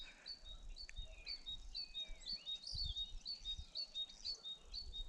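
Starlings sing in a spring woodland in March, their whistles and chirps repeating near and fairly clear over a quiet background.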